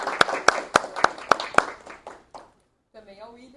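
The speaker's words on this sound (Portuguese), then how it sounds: "queria pedir uma salva de palmas a todo mundo que está aqui hoje" An audience at a Mercedes-Benz talk on neurocommunication claps, with a run of sharp, loud, evenly spaced claps that thins out and fades, followed by someone speaking.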